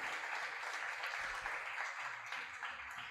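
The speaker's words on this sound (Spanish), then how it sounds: "Demos un aplauso al Señor" Sustained applause from a church congregation, steady and dense, filling the whole stretch at moderate volume without a break.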